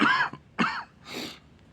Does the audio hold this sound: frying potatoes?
no